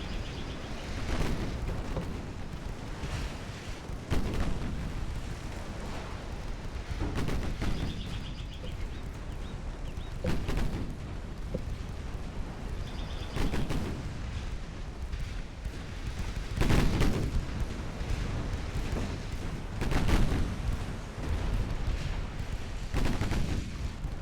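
Continuous naval gunfire and shell impacts from a battleship engagement in Ultimate Admiral Dreadnoughts as a turret is struck and destroyed, a dense, steady barrage of thuds and blasts with louder peaks recurring every few seconds.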